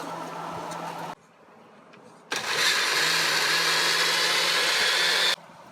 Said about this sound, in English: No, the blender will do that.